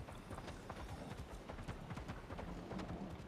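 Horse hooves gallop in the video game Palia, a quick rhythmic clip-clop under a noisy, rumbling game soundscape, moderately loud and continuous.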